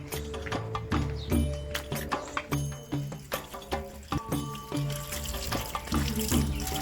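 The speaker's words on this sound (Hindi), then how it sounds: "अब इन्हें अच्छी तरह धो लेते हैं" Coriander, mint, tomatoes and green chillies being washed under a running kitchen tap, water splashing steadily with irregular knocks and clatters of the produce and hands in the sink throughout.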